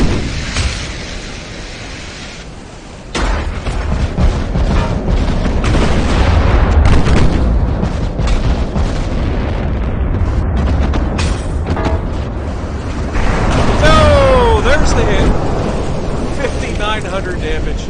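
Warship secondary batteries in a naval combat video game firing on a destroyer produce a dense, loud, continuous rumble of booming gunfire and roaring noise, with a voice talking over it at times.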